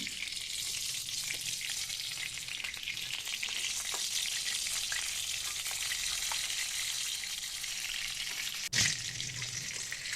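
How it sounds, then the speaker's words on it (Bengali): Chicken momos deep-fry in hot oil with a steady, dense sizzle that runs unbroken throughout, with one brief clatter near the end. "এই দুটো রেখে দিলাম কিছুটা সময় ভালোভাবে ভাজার জন্য"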